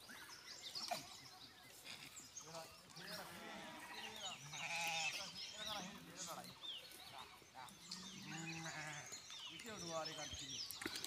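Sheep and goats bleat repeatedly, overlapping wavering cries from several animals close by, with a steady outdoor murmur underneath.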